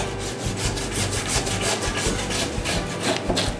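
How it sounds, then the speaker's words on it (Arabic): A manual hand saw cuts through a sheep carcass at home, making a steady, close, rasping back-and-forth stroke with an even rhythm throughout. "في الدار يمكن نستعملو غير المنشار بحال هذا اليدوي راه تيسهلنا"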